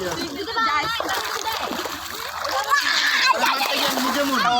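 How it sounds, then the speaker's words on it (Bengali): Water splashing as family members dive and swim during a day outing by boat, steady splashes and sloshing close by under excited children's and adults' voices. "ডুব দাও ডুব দাও তুষার"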